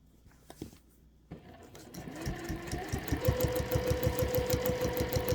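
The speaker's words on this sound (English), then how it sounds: "As you can see, it stitches perfect right in the ditch." A sewing machine with a compensating 1/4 inch foot stitches in the ditch to attach quilt binding. It starts with a few soft clicks, then runs in a fast, even mechanical rhythm of needle strokes, close and moderately quiet.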